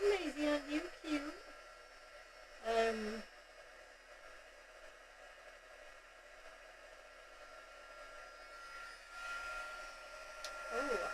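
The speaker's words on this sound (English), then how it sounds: "I'm just adding some heat to my embossing now to set that" A heat gun warms embossing powder to set it during a crafting session, giving a soft, steady blowing hiss under and between brief bits of talk.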